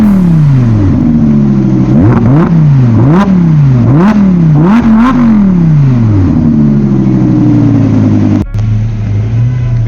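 At a rainy London supercar meet, an arriving MP4 supercar's engine blips through a quick series of sharp, loud revs close by, then settles into a deep idle burble.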